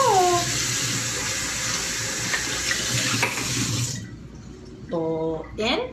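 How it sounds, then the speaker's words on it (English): Tap water runs steadily while a bowl is rinsed, a close hissing flow that stops near the end, followed by brief clinks and a voice. "Rinse the bowl."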